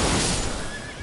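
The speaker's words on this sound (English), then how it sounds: "A horse?" A horse in the video game Elden Ring gives a short, loud whinny lasting about a second, close and alone with no talk over it.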